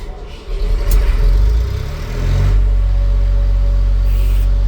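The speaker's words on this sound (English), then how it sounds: "you have to depress this button and then turn on the engine." The engine of a Premier Deicer MT35P75 turns over and catches, then settles into a steady, loud, droning run close by.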